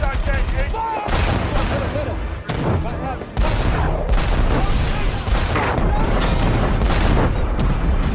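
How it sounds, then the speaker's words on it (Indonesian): Heavy film-battle gunfire between German SS troops and American soldiers, dense overlapping shots and bursts with booms, loud and continuous over about eight seconds with a brief lull near the middle. "terjadi baku tembak yang begitu dahsyat antara SS Jerman dengan tentara Amerika"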